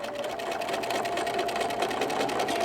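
Sewing machine running a continuous line of stitches down the side of a small fabric gift card holder, with a close, even, rapid whirring hum and no break.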